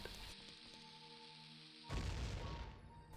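Bomb going off in Ocarina of Time, a sudden low boom that breaks in after a stretch of game music and rolls on with a rumbling crash.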